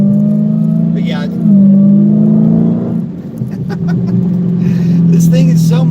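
Mopar car driving on a track night with a steady, loud engine drone that rises in pitch and shifts as it revs, a brief dip midway, with people talking over it.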